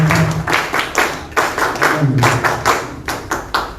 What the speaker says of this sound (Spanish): Fuertes palmas para recibirlo